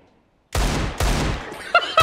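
Gunshots in a video game, two loud close blasts in quick succession followed by sharp metallic ringing clinks at the end.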